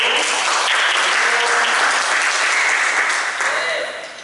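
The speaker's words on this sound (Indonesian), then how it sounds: "Boleh tepuk tangan terlebih dahulu." Students in an Indonesian-language class applaud a group after its presentation on a historical novel and drama excerpt, a dense and fairly loud clapping that holds steady for about four seconds before tapering off.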